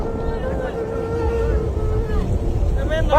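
A boat engine drones steadily at close range, rising slightly toward the end, with water noise and faint background voices.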